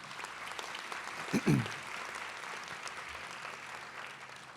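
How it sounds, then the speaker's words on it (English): A ceremony audience gives a soft, distant round of applause for an oud player, a steady hush of clapping with a brief low thump partway through. "if we can have a round of applause for him"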